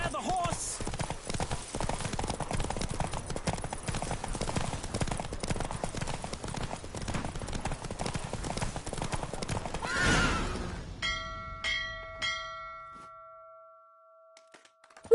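Horse hooves drum in a steady rapid clip-clop through a race in The Witcher video game, loud and continuous for about ten seconds before fading out, followed by a few chime-like tones.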